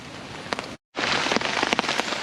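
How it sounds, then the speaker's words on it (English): Steady outdoor rain in a wet woodland bushcraft camp, dense hiss of drops pattering on surfaces with a few louder splats, broken by a brief full dropout before the downpour resumes, no voices. "So obviously it's raining, so taking advantage of the situation."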